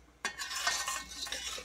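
Spoon stirring cocoa powder in a pan while making hot fudge, a brief close scraping and swishing with light clinks against the metal.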